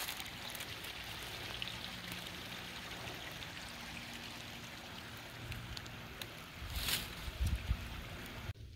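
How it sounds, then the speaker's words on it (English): A small stream flows steadily among round rocks and leaves in a boulder field, a faint, even wash of water with a few louder splashes near the end. "look what a beautiful stream this is"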